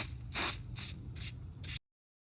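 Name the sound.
spraying NOCO battery cleaner onto car battery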